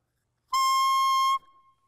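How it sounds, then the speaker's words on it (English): A lone clarinet single reed blown without the instrument gives a loud, buzzy, bright squeal held steady for under a second, then stops. "When you blow across the reed, it vibrates and it sounds like this."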